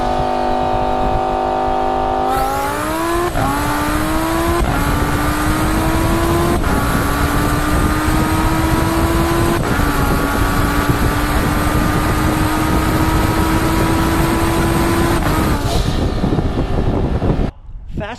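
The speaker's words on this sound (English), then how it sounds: "a bolt-on twin turbo Huracan, making about 800 wheel horsepower, racing his bone stock McLaren 720S" A twin-turbo Lamborghini Huracan of about 800 wheel horsepower racing a stock McLaren 720S, heard as a loud, close, continuous engine roar whose pitch climbs steadily with several sharp gear-change breaks before cutting off abruptly.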